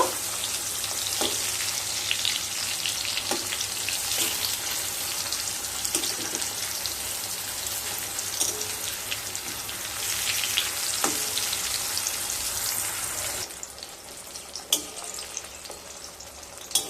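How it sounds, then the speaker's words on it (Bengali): Pumpkin slices fry in a pan with a continuous bright sizzle of hot oil, interrupted now and then by soft taps and pops, dropping briefly quieter near the end before crackling again. "একটা সাইড কুমড়োকে ভেজে নিয়ে তারপর ফিরে আসছি"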